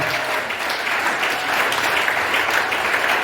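Congregation at a Lubumbashi church applauding, sustained dense clapping and cheering filling the hall, loud and even throughout with no pause.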